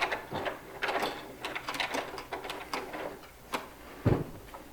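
The hand crank of a Starvent 11-inch RV vent fan lid is turned open, producing close, uneven bursts of plastic clicking and ratcheting with irregular pauses and a louder clunk near the end.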